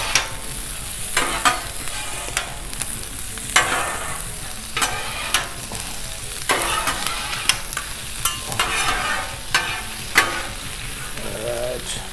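Butter sizzles and crackles on a Blackstone griddle with brats, a steady loud fry broken by scrapes and stirring clatter from a spatula.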